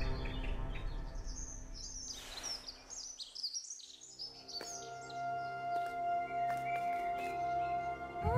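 Birds chirp and tweet in the video game The Last Campfire, a bright scattered chorus of short calls over a soft ambient bed, fading briefly before steadier whistling tones return.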